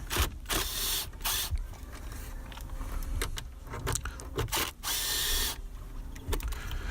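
A 10 mm socket removes screws from a Toyota Sequoia's JBL/Fujitsu car stereo, giving close metallic clicks, ratcheting and rattles in irregular bursts, with bits of handling noise between them.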